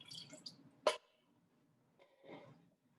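Water spooned into a Thai sauce of palm sugar, poured in as a short splash and a softer trickle, close and fairly quiet in a kitchen.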